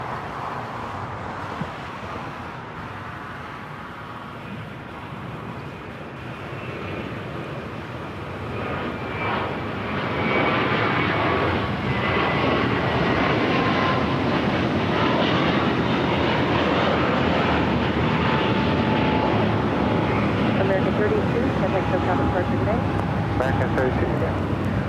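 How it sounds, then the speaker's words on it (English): A Delta heavy airliner taking off from runway 25 right at LAX, a broad engine roar that swells after about ten seconds into a loud sustained rumble, heard from a distance with faint voices and radio chatter underneath. "clear for takeoff 25 right with 8 Delta Sierra Heavy"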